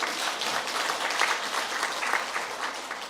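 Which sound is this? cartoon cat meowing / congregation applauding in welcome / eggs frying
congregation applauding in welcome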